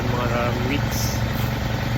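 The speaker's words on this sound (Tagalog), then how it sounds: "Medyo maingay yung motor kasi dalawang motor yung ginagamit namin ngayon para mas mabilis." Two boat motors run together with a loud, steady droning rumble close by, continuous under someone talking.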